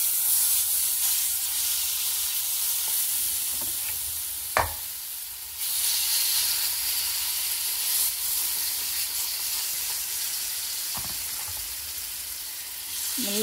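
Thati rotte cooks in oil over a low flame, giving a steady, soft sizzling hiss that runs throughout, broken by a couple of sharp clinks from the pan.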